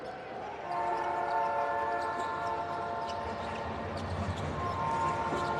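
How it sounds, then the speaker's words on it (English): A train horn blares in the background of a basketball arena as a sustained, steady tone under crowd noise, with bouncing balls and some talk around it. "Keep hearing that train horn in the background."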